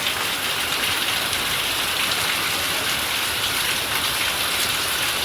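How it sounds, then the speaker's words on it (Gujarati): Heavy monsoon downpour in a village, heard from a rooftop terrace: a steady, dense, loud hiss of rain pouring without a break, with no voices. "નેસડી ગામમાં ધોધમાર વરસાદ, હારામાં હારો"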